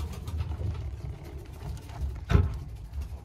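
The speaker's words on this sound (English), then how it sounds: "I got some birds down here on the floor as well." Racing pigeons in a loft make soft, low cooing under a constant low rumble, with a brief louder thump or flutter near the end.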